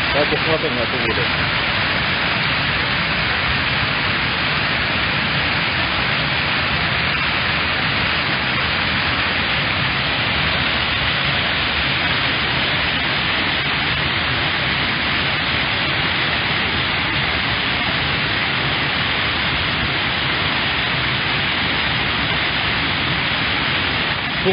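Water rushes over a dam in a dense, loud, unbroken roar that fills the whole clip with steady broadband noise and no pauses.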